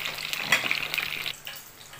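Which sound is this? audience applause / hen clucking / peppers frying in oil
peppers frying in oil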